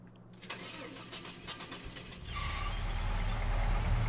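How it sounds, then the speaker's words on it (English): An older vehicle's engine in Farming Simulator 25 cranks over and catches, settling into a steady, loud rumbling idle with no one talking. "Even sounds like an older engine."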